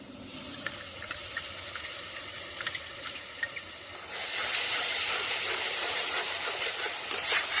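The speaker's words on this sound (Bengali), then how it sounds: "এবার টমেটো পেস্টটা দিয়ে দেব।" Tomato paste going into a hot pan with oil, soft stirring taps at first, then a sudden loud steamy hiss that swells and holds close for the last few seconds.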